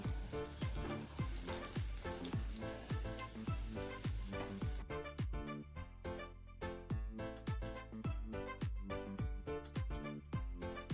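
Ginger and green chillies fry in hot coconut oil with a constant crackling sizzle, punctuated by regular stirring strokes throughout.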